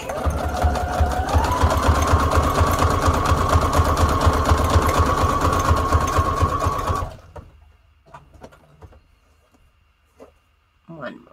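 A sewing machine stitches junk journal tags in a fast, steady whir for about seven seconds, rising slightly in pitch early on, then stops, leaving quiet handling noises and brief soft sounds.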